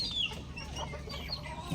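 Backyard chickens, including a hen, cluck softly at close range, with a few short clucks and a faint high call over a quiet outdoor background.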